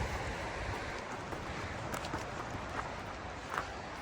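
Steady broadband rushing of flowing river water at a riverside campground in Willamette National Forest, Oregon, constant and fairly close, with a faint low rumble of distant highway underneath and no voices.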